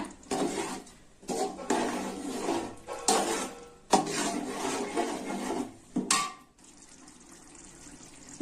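Green chillies sautéed in a pot for chicken biryani, heard as bursts of sizzling and rough scraping strokes of a ladle stirring, pausing between strokes, then a faint quiet sizzle at the end.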